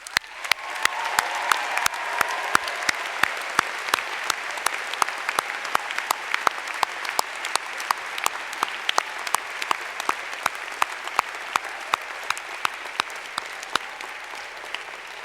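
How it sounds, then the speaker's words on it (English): Sustained audience applause fills a 2022 graduate commencement ceremony at Johns Hopkins SAIS, a dense steady wash of many hands clapping with sharp individual claps standing out throughout, no voices over it. "One more round of applause."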